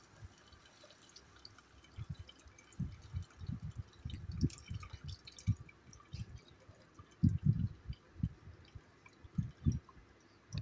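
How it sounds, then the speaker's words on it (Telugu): Tamarind juice is poured into a cooking pot, giving faint, close dripping and splashing of liquid in irregular spurts. "చింతపండు పులుసు వేసుకోవాలి."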